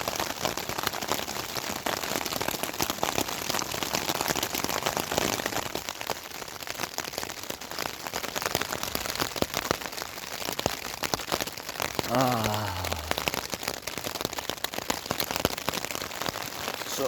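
Steady light drizzle patters on a rain cover beside a green willow campfire, a soft continuous hiss with scattered drops and a brief low tone partway through.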